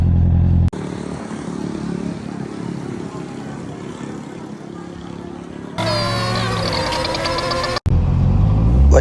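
A Honda CB650R motorcycle engine runs with a steady, loud drone, then shifts to a higher-pitched revving tone midway before cutting briefly and resuming.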